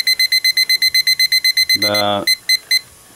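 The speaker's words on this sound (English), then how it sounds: "Alright, so timer went off" An oven timer sounds during powder coating curing at 400 degrees, a loud, rapid train of regular electronic beeps. A short burst of speech interrupts the beeping partway through before it resumes.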